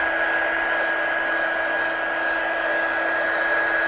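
A heat tool or hair-dryer-style drying gun blowing steadily over a handmade shaker card, a constant loud whirring hiss with a fixed motor whine, running close and unbroken without any voices.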